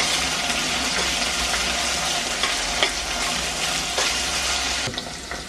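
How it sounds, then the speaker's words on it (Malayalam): Sliced onions and okra frying in hot oil for sambar, a steady close sizzle with soft stirring scrapes and a few sharper pops and clinks, no talking. "നമ്മുടെ ഉള്ളിയൊക്കെ ഒന്ന് മൂത്തു, വെണ്ടയ്ക്ക ഒന്ന് ചെറുതായിട്ട് വാടിയിട്ടുണ്ട്."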